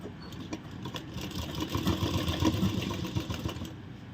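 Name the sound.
sewing machine stitching palazzo pants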